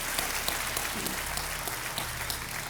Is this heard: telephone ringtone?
no